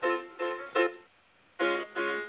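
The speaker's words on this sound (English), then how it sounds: "there's another piano on here as well" Five short, bright piano chord stabs in a choppy pattern with a pause in the middle, played alone with no talking.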